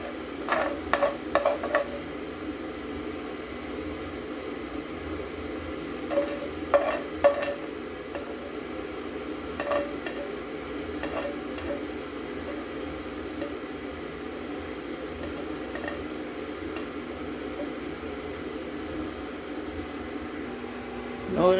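Onions frying in a pan alongside fish, with a steady soft sizzle and scattered scraping clicks of a utensil stirring, moderately close and alone without talk.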